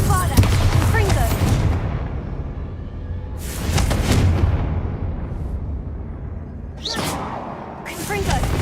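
Bombarda and Confringo spell blasts from Hogwarts Legacy burst out in several loud broadband bursts, each decaying into a dense rumbling bed of game noise, with spoken shouts mixed in among them.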